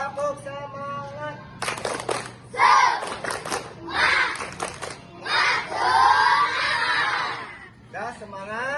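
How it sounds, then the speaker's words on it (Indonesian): A group of elementary schoolchildren at an outdoor PE lesson, led by their teacher, shout and clap together in rhythmic bursts of a spirit chant, loud and lively, with short pauses between the group outbursts. "coba Bapak minta tepuk semangat dulu"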